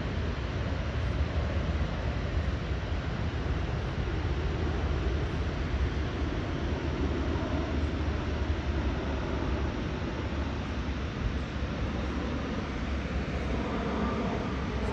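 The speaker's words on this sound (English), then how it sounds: "Got an airplane flying over." An airplane flies over near SoFi Stadium in Los Angeles, a steady broadband roar that fills the whole stretch at an even, fairly loud level with no voices over it.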